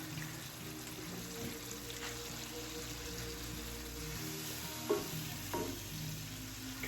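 Beef mixed with tomato paste, beef broth and water sizzles steadily in a pan as it is stirred, with a constant crackling hiss and a few scraping stir sounds near the end.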